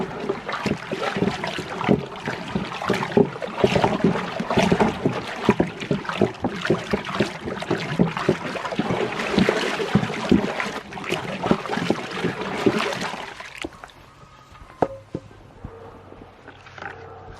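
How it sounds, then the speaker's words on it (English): Hot water is stirred in a bucket for soaking a hide, giving a continuous sloshing and swirling with rhythmic splashes that run for about fourteen seconds before settling into a few faint drips and knocks. "I'll just stir it up."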